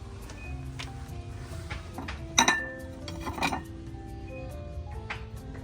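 Glassware and dishes clink and knock together as they are handled on store shelves, with two brighter clusters of clatter standing out over a steady murmur of shop background.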